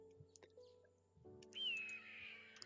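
Birds chirp in a modded Minecraft superflat survival world, a thin high whistling call rising over a low steady ambient hum with scattered small clicks.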